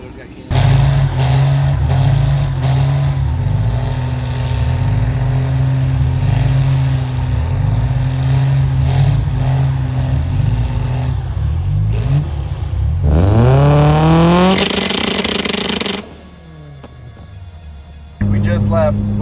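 A 900-horsepower Subaru heard from inside the car on the Tail of the Dragon mountain road: a loud, pulsing engine drone, then a sharp rising rev, a lift-off and another surge, with voices talking over it.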